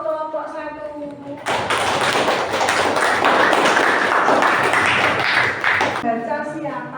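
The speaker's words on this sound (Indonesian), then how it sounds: "tepuk tangan untuk kelompok 1." Classroom group of students clapping for a presenting group during a teaching assessment: a burst of applause of about four and a half seconds, with speech just before and after.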